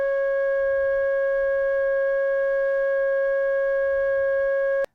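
A looped sampled waveform plays back in a sampler as a steady pure electronic tone with clear overtones, holding unchanged for about five seconds before cutting off abruptly.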